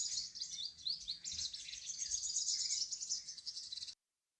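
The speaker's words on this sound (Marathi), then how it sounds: "आणि पक्ष्यांचा ऐकू येणारा किलबिलाट यामुळे मन अगदी शांत होऊन जातं" A dense chorus of birds chirps and twitters continuously at moderate volume near the Sas-Bahu temple at Nagda, Rajasthan, many overlapping calls, then cuts off abruptly to silence.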